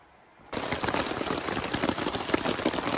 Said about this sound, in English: Obviously it's raining really hard right now.